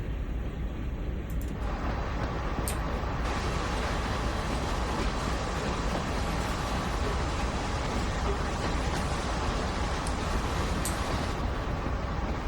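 Long freight train in the Train Sim World game (CSX Heavy Haul) rolling past on an adjacent track, a loud continuous rumble and wheel clatter that holds steady throughout with no talk.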